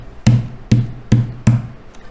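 Fingerstyle guitar percussion struck with the wrist on the strings and body, four evenly spaced dull thumps with a short muted ring after each, close and fairly loud, alone with no voice.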